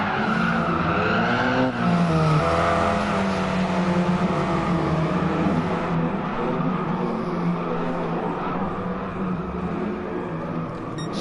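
Race car drifting with squealing tyres during a BTCC touring car race at Trail Mountain in a racing video game. A dense, continuous engine drone blends with sustained tyre squeal at steady loudness, with no voices.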